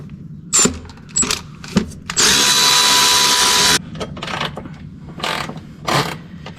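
A power tool whirs while removing a valve cover from a Mercedes-Benz OM 473 engine on a Claas Jaguar. A few short bursts come first, then one sustained spin of about a second and a half, then more brief clicks and handling noises.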